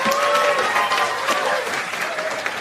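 Loud, sustained audience applause fills a stand-up comedy show, with a dense crowd of clapping hands holding steady for a couple of seconds.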